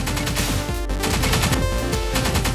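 Dense rapid-fire gunshots from the video game Pineapple Smash Crew, a loud, continuous burst of automatic fire with no pauses and no speech.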